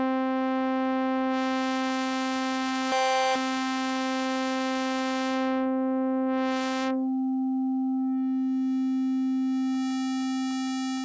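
GForce Halogen FM software synth with limiting engaged: a sustained bright, buzzy tone with stacked harmonics and a steady low fundamental, swelling and thinning as bursts of noisy distortion fade in and out, ending in a glittering, crackly texture.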